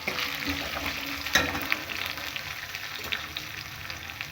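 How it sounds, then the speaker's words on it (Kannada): Thick-cut onions frying in oil in a pan for a village-style greens sambar, a steady close sizzle with a few stirring scrapes and clatters, no talking. "ಈ ರೀತಿ ದಪ್ಪ ಸೈಜ್ ಕಟ್ ಮಾಡಿ ಇಟ್ಕೊಂಡು ಹಾಕೊಂಡು ಫ್ರೈ ಮಾಡ್ಕೊತಾ ಇದ್ದೀನಿ."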